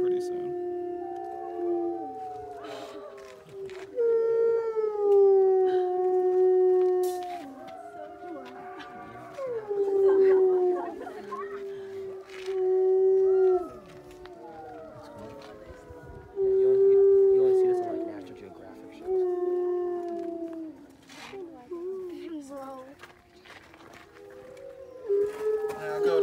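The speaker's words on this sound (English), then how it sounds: "Yeah, they're all gonna start howling pretty soon." Wolves at the Colorado Wolf & Wildlife Center howl in a chorus of long, rising and falling wails that overlap and swell in several waves, loud and sustained across the whole stretch.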